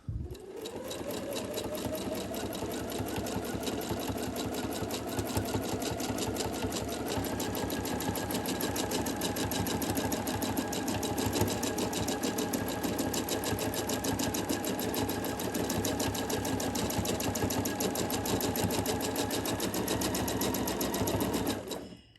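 A sewing machine doing free-motion quilting on quilt-as-you-go blocks runs in a fast, even, continuous stream of stitching that holds steady and loud for over twenty seconds.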